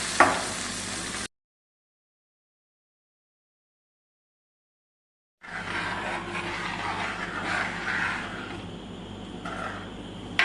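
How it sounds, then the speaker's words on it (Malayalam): Dried red chillies fry in hot oil for a sambar tempering, giving a close, crackling sizzle in two bursts separated by several seconds of silence, with no voices. "വറ്റൽമുളകും ചേർത്ത് നന്നായിട്ടൊന്ന് മൂപ്പിച്ചെടുക്കുകയാണ്."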